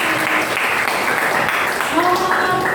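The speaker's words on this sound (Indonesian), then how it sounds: "Beri tepuk tangan dulu." Classroom applause from a group of students, a dense, steady clapping that fills the whole clip at close range, with voices mixed in.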